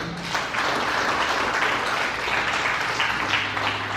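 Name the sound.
congregation applause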